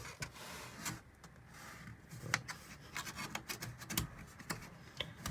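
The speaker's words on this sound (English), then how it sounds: "Just trying to get it off with a razor blade." A razor blade scrapes sticky glue residue off the interior panel of a Freightliner FLD 120 truck in short, rasping strokes, close up and fairly quiet, repeating irregularly.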